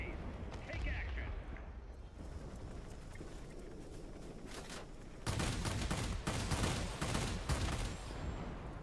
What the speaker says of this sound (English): The enemy is launching rocket cannons from the military base.